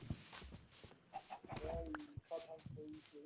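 Chickens cluck in a video game, with several short clucks and squawks at low level, mixed with other game sounds.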